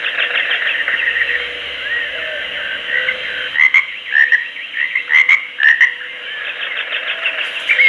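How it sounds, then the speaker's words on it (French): A NUK Eco Control Audio 530d Plus baby monitor plays an electronic frog croaking sound through its small speaker, a steady droning chorus broken by several louder, rhythmic croaks, heard alone and fairly close. "Donc là, on reste sur le dernier qu'on a déclenché, à savoir la grenouille."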